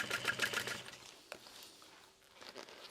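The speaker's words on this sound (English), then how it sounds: "We'll start to sew that in place." A sewing machine stitches a backpack lining in place with a rapid, steady whir of stitches that is loud at first, then slows and drops to quieter, intermittent runs.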